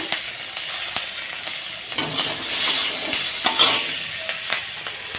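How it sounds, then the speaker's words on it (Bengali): Green chillies fry in a little oil in a pan, giving a loud, close, continuous sizzle with sharp pops and crackles, broken by a few stirring knocks and no one talking. "এখানে অল্প সামান্য তেল দিলাম এই লঙ্কাগুলো একটু ভেজে নেব"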